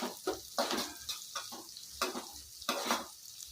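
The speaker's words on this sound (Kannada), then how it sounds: "ಆ ಶುಂಠಿ ಬೆಳ್ಳುಳ್ಳಿಯಲ್ಲಿರೋದೆಲ್ಲ ಎಣ್ಣೆಲಿ ಬಿಟ್ಕೊಬೇಕು" Ginger and garlic fry in oil in a home kitchen pan, with repeated scraping stirs and soft sizzling in short bursts, close and fairly quiet.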